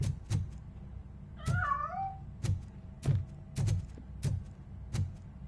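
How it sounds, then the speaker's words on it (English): A cat in a video game lets out one drawn-out, rising meow, surrounded by a series of evenly spaced dull thunks and taps. "That cat must be hiding inside."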